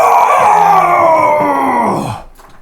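A person's voice imitates a small, fluffy dog yipping, producing a long, loud, wavering whine that slides downward before cutting off, close and alone.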